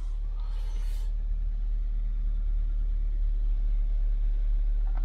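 A Toyota Yaris Hybrid's engine at fast idle after a cold start: a steady low rumble, close and continuous, with no voices over it.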